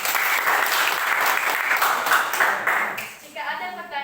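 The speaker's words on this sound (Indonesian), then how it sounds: "Oke, tepuk tangan dulu." A group applauds, loud and sustained clapping for a few seconds, then it fades as a voice begins speaking.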